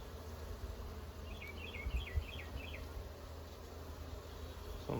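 Honeybees in an open Flow hive give a steady, low droning buzz throughout, close and continuous, with a few faint chirping notes briefly rising above it.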